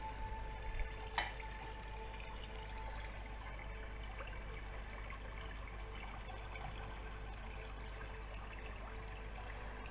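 Steady flowing water of a waterfall, a continuous soft rushing wash at low level with one or two faint splashes near the start and no voices.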